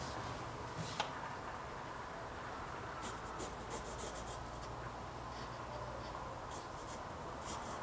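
Pencil drawing fan-art lines on paper, a steady close scratchy rubbing with a faint tick near the start, running unbroken and alone with no talk.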